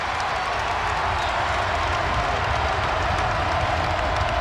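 A dense basketball crowd at RBC Center roars steadily, a continuous wash of cheering and clapping from a packed arena at constant high volume.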